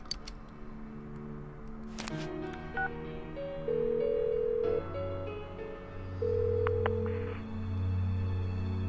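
A phone call being dialed in Persona 4 Golden: a sequence of electronic dialing tones, followed by steady, louder ringing tones with musical layers, heard alone.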